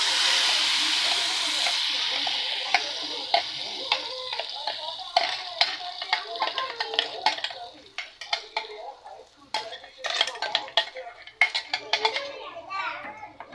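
Ground paste hits hot tempering in a pan with a loud hiss that fades over a few seconds, followed by repeated scraping and clinking of a spoon stirring against the pan, with children's voices in the background.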